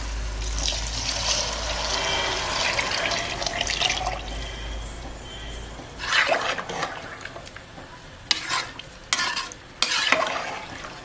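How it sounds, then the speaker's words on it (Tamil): Mutton cooking water poured into rice in a pot, then stirred: a sustained pouring and sizzling wash followed by scraping, clattering stirring strokes with a few sharp knocks of the spoon. "இப்போ நம்ம அந்த தண்ணி சேர்த்துக்கலாம்."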